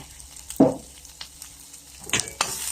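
Minced beef hump for kaprao is stir-fried in a hot pan. A soft sizzle runs under a few sharp spatula scrapes and knocks, close and alone.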